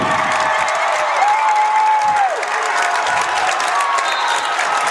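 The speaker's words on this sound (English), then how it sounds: "And this crowd is amped up." An excited crowd at a high school girls' basketball game claps and cheers in a steady, loud wash of applause, with a sustained whistle-like tone cutting through midway.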